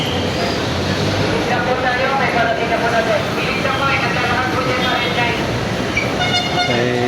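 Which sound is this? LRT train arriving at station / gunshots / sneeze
LRT train arriving at station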